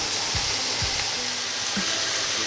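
Rice being stir-fried in a pan, a steady sizzling hiss broken by a few low thumps and scrapes as it is tossed.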